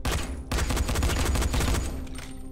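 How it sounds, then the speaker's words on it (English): A police rifle firing in the zombie game Dying Light, a rapid, loud burst of shots after a very brief pause, continuing unbroken almost to the end. "That means I'ma shoot."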